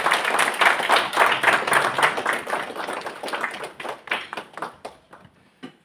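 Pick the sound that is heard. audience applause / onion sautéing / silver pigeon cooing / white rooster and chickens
audience applause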